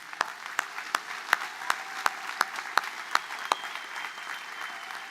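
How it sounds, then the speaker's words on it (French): Audience at a New Year's wishes ceremony in Pontault-Combault applauding volunteers with steady, evenly spaced rhythmic claps, about fourteen beats, fairly soft in a hall. "je vous demande de les applaudir très fort"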